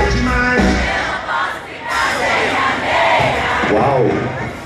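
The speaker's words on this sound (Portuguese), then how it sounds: "Só as gatinhas cantando comigo bem alto" Women in a concert crowd at an outdoor show sing loudly together, a dense, sustained mass of voices with shouting and cheering swelling throughout.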